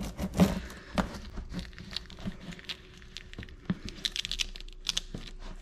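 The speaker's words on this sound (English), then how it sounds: "So now we're gonna remove the transfer tape" Transfer tape peels slowly off adhesive vinyl on a textured basket, giving faint, irregular crackling and ticking with scattered small snaps, close and quiet, with no talking.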